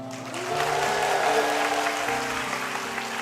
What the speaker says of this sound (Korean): 박수 소리가 조금 작은 것 같은데